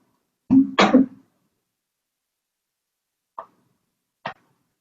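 A person clears their throat in two quick, raspy bursts, followed by a couple of faint clicks in an otherwise quiet room.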